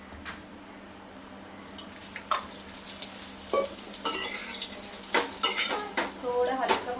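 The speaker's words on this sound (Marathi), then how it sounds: "कांदा लसूण सुद्धा आपल्याला हलकं भाजून घ्यायचं आहे" Onion and garlic sautéing in oil in a pan for a chicken gravy masala, with a soft steady sizzle and intermittent clinks and scrapes of a spoon stirring against the pan.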